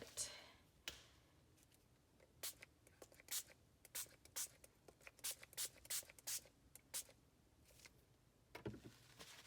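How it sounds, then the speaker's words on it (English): Pink-tinted water mixed with red food coloring is spritzed from a spray bottle onto junk journal paper in a series of sharp, close bursts, spaced irregularly with short pauses and a quiet background between them. "So I'm just going to spray it on here"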